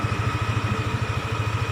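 Yamaha Aerox 155 scooter engine idling close by, a steady low rhythmic putter with even pulses and a faint mechanical clatter, no voices.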